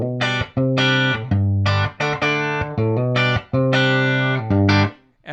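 A 50s-style Esquire electric guitar with Porter pickups and Emerson wiring, played through a mic'd Milkman Creamer amp, rings out clean chords in a rhythmic strummed pattern, loud and close with short pauses between phrases.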